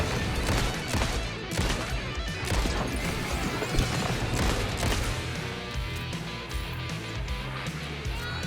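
Dense, loud gunfire in the video game Alan Wake 2, repeated rapid shots and impacts piling up continuously over a busy game soundscape.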